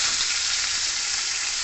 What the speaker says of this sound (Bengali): এরপরে যে টমেটো, গাজর, ক্যাপসিকাম এসব দিয়ে দিলাম।